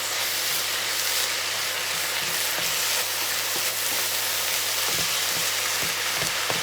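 Bolognese sauce sizzles steadily in a pan as it is stirred, with a continuous close frying hiss and a few soft scraping knocks of the spoon, and no voices.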